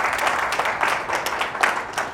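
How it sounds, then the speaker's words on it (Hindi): Crowd at a political gathering in Samaypur Badli, Delhi, breaking into dense, steady applause that fills the space, loud and continuous with little talk over it. "इसलिए आपके लिए जोरदार तालियां हो जाए एक बार"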